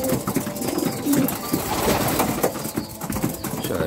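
Female homing pigeons in a loft cooing like males, a dense chorus of close, loud, throaty coos, with faint wing flutters.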